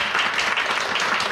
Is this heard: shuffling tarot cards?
no